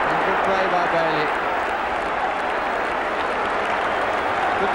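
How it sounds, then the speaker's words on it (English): Football crowd at a Sunderland match applauding a well-built attack, a steady broad wash of clapping and cheering from a large stadium audience, loud and sustained throughout, with faint commentary-like voices early on. "Good deserved applause for a nicely built attack."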